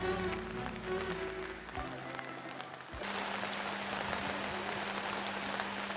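Steady, dense rain hissing across the whole clip over a shopping street in Safranbolu, Turkey, with a brief shift partway through and a low hum underneath; no talking.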